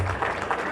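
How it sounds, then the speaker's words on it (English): A short burst of steady audience applause at the Valley Patriot Bash 2018 gathering, an even wash of many hands clapping at moderate volume with no break. "they deserve a round of applause"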